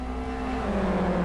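Touring cars accelerating together at a race restart in the 2009 iCON Touring Car Championship, a loud sustained engine drone rising in pitch as they pull away, heard alone without commentary.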